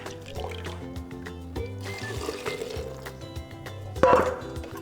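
Water poured back through a sieve over chopped raw falafel mix, a close trickling and splashing under soft background music, with a brief louder splash near the end.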